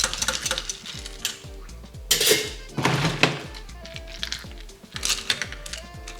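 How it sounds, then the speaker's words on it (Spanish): Crushed ice is spooned into a Cynar julep glass with repeated clinks and thunks in a quick, uneven rhythm, set against a few brighter rattling bursts, all close up. "ahora esto lo que le falta es simplemente hielito picado hasta arriba"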